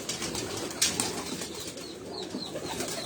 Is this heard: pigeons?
yes